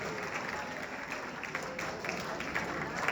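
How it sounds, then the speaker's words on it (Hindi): Brief, moderately faint applause from an audience in an auditorium at a school poetry recital and mushaira, a steady wash of many hands clapping together. "एक बार जोरदार तालियों के माध्यम से उनका स्वागत करें"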